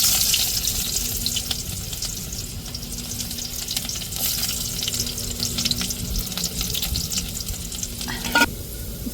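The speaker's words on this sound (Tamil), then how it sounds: "இப்போ குழம்ப தாளிச்சுக்கிடுவோம் வெந்தயம் சேர்த்துக்கிடுவோம்" Fenugreek seeds tempering in hot oil for a fish curry, a steady sizzling crackle that runs evenly close up for most of the stretch, with stirring and a brief clatter near the end.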